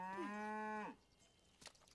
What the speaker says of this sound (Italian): Ciao, mucche!